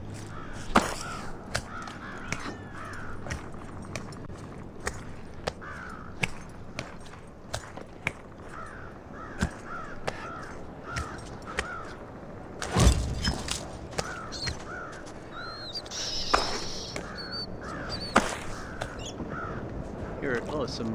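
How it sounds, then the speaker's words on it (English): Crows caw repeatedly on a mountain climb in The Climb 2, sharp calls scattered over a wind-filled background with occasional knocks and gear sounds, and a person talks intermittently over it. "Some birds up there."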